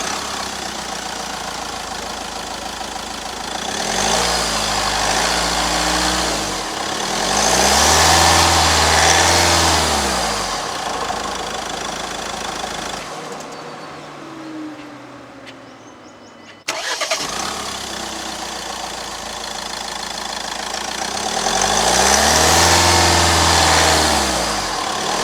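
The engine of a 2025 Mahindra Scorpio N Z2 starts up and idles close by in a steady hum. It is shut off and restarted, and each start gives a short surge. No one speaks.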